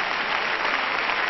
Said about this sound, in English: You may go down clapping.